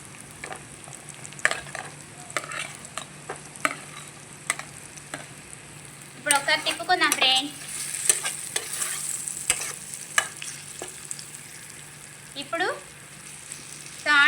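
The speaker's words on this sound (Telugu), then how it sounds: "ఇప్పుడు ఒకసారి తిప్పుదాం ఇప్పుడు మనం మష్రూమ్స్ వేద్దాం" Mushrooms frying in a pan for kaju mushroom curry are stirred with a utensil, producing irregular scraping clinks and bursts of sizzle, with a steady low hiss beneath.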